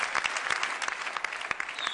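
An audience applauds after a recited Arabic poem, a dense patter of many hands clapping steadily and fairly close for a couple of seconds.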